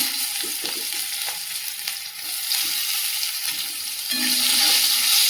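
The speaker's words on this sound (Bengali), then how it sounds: "ভালো করে ভেজে নেব মশলাটা" Panch phoron spices and chopped onion fry in hot oil with a continuous close sizzle, punctuated by occasional stirring clicks. No voices are heard.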